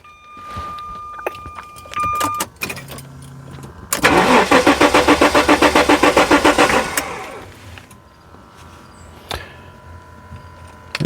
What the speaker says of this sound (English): It's cranking faster, but it's not recognizing it.